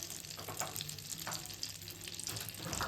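Onion frying in butter and oil sizzles with a soft, constant hiss for matar paneer, faint and steady, with light clinks and stirring.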